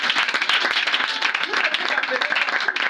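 A church congregation applauds during a testimony gathering, with dense continuous clapping from many hands filling the room and voices mixed in underneath.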